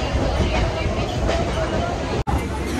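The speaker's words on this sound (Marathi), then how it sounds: "आता ही फास्ट ट्रेन आहे" A fast local train rumbles loudly and steadily throughout, heard from inside, with broadband rattling noise and a brief dropout near the end.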